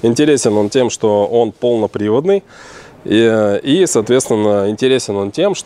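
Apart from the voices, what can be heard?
No distinct noise like a dog, phone or traffic.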